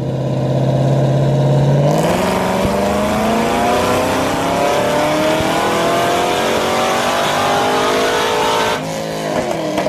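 A Camaro ZL1 on a dyno being tuned ahead of nitrous, its engine holding a low idle then climbing in one long loud rev with rising pitch before a sudden lift-off and crackle as it shoots exhaust flames.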